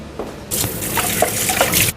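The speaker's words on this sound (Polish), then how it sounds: "Szponder opłukamy zimną wodą." Beef brisket rinsed under a cold running tap, a steady broadband rush of water striking meat and sink that starts abruptly and continues loud and close, with small splashy variations, no talking.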